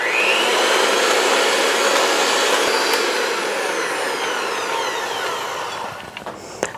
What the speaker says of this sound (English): Then take an electric hand mixer and blend everything until it's creamy.